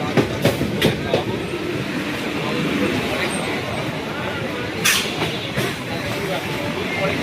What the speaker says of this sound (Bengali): আবার একটা পেছনে ট্রেন দেখো, আবার একটা চলে এসছে হাওড়া তারকেশ্বর থেকে